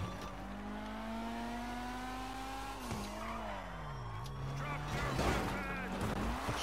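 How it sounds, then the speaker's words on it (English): A fast car's engine in GTA 5 Online drives steadily, its pitch rising and falling as it shifts and turns, with tire squeal and loud game effects near the end and a voice talking over it. "look at how fast this car is"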